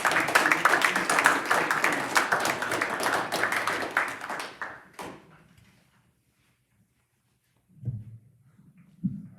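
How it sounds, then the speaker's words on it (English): A crowd at a basketball banquet applauds with dense, steady clapping for several seconds, then it fades to quiet, followed by a couple of brief distant noises. "so let's give an applause for that"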